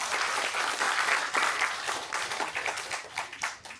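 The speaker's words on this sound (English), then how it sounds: "Let's give another round of applause, Dr. Tim." Dense round of audience applause at an executive centre seminar, steady and fairly loud with many overlapping claps, thinning slightly toward the end.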